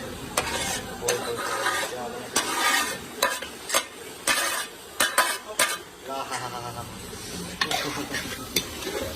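Okra tipped into hot gravy sizzles loudly while a metal spoon stirs and clanks against the pot in repeated sharp knocks, with faint voices briefly in the background.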